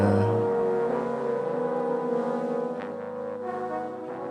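A loud, steady mechanical drone with a deep tonal hum runs continuously, shifting slightly in pitch partway through.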